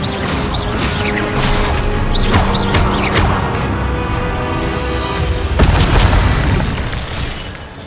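In the video game Hogwarts Legacy, an Incendio fire spell is cast during combat, producing loud, dense whooshing and crackling bursts with a heavier boom near the end, all layered over the game's constant action noise.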